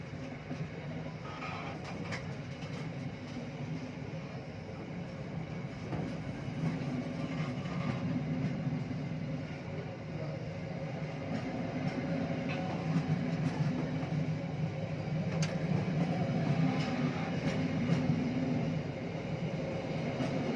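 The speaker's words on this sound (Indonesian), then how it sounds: "kereta api Gajayana" Gajayana passenger train pulling into a station on Java, a steady low rumble of the locomotive and rolling wagons with rail clatter and squeaks, continuous and fairly close, with no talk.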